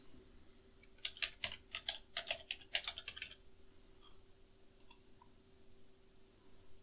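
Encryption passphrase typed twice on a computer keyboard, a quick run of close, crisp key clicks followed by a pause and a few sparse taps.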